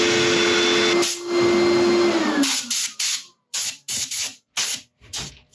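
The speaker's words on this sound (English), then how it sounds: "Okay, sanding went well." Power sanding of a black locust burl bowl on a wood lathe: a steady hissing motor drone winds down, followed by a run of short, sharp hissing bursts separated by silences. Close and fairly loud, with no talk.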